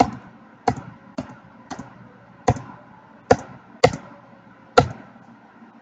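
A computer keyboard's space bar is pressed to advance PowerPoint slides: about nine sharp, close clicks at uneven intervals, each standing alone against near silence.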